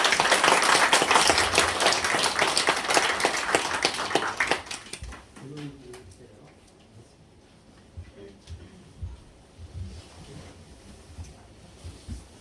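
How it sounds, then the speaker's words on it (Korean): An audience at a Buddhist Buddha's Birthday service claps to welcome a speaker: dense, sustained applause for several seconds that fades out, followed by someone speaking into a microphone. "큰 박수로 맞이해 주시면 감사하겠습니다"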